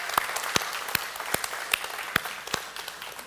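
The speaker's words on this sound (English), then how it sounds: "Let's give him a round of applause." Sparse, distinct claps from a small audience at a product launch event for co-designer Andres Isenberg, a steady rhythm of individual sharp hand claps close by rather than a dense ovation.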